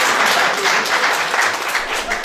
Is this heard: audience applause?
yes